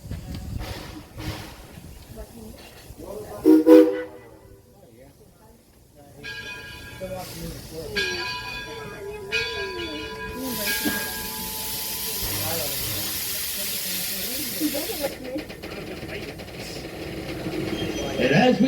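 Greenfield Village Railroad steam train letting off a loud, sustained hiss of steam midway, with engine rumble and mechanical tones around it and people talking nearby.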